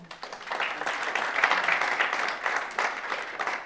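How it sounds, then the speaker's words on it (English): Audience applause at a blockchain congress, a steady burst of clapping from a seated crowd lasting a few seconds at moderate loudness. "Let's start by giving George a round of applause for putting this together"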